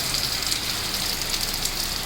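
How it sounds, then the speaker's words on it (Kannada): Heavy rain pours down in a steady, dense hiss, close and continuous with no pauses. "ಜೋರು ಮಳೆ ಬರ್ತಾ ಇದೆ"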